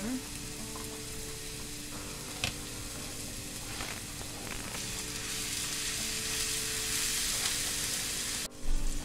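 Chopped vegetables fry in a pan for Delhi-style momos, giving a steady, close sizzle with occasional stirring clicks and a louder scrape near the end, with no voices.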